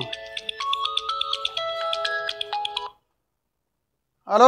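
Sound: phone ringtone of an incoming call

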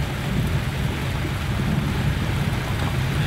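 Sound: heavy rain in Costa Rica

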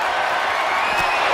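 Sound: crowd cheering in WWE 2K23 video game

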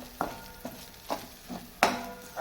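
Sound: spices frying in oil

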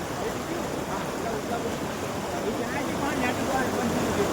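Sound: heavy rain falling

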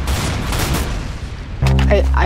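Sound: gunfire from a gun in a Roblox video game

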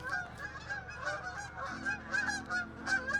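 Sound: wild geese honking

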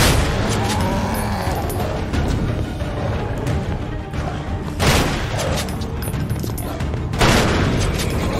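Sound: gunfire in video game Ebola 3

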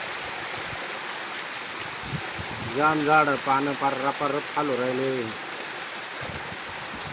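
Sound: heavy rain falling

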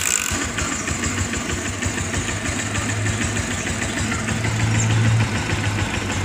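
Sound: motorcycle engine idling after carburetor tune-up

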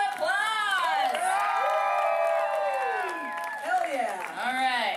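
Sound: crowd applause and cheering at tattoo awards

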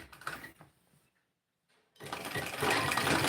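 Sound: sewing machine stitching suit fabric

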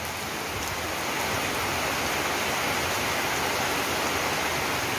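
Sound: heavy rain

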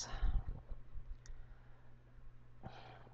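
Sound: mouse clicking

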